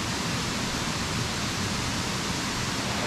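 Seryeon waterfall, a two-tiered cascade on Chiaksan mountain, pours in a steady, dense hiss of falling water, heard close and continuously with no other sounds.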